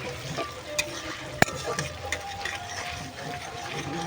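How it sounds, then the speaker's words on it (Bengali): Ginger and garlic stirred through hot oil in a pan, a steady close sizzle with scraping stir strokes and a few sharp clinks of the spatula against the pan. "আদা রসুন তুলে দিয়ে এইভাবে ভালো করে নেড়ে নিচ্ছে এই তেলে"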